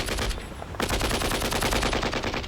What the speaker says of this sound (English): the tanks would start using the machine gun